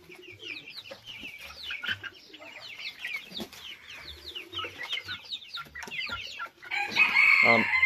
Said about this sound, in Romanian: cocoșelul ăsta petic foarte fain și el.